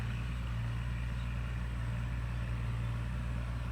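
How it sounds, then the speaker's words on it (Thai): A tractor plowing a rice field near Lampang, Thailand, gives a faint, steady low engine drone that holds unchanged with no voices over it. "นอกนั้นก็เป็นรถไถนากำลังไถนานะครับ"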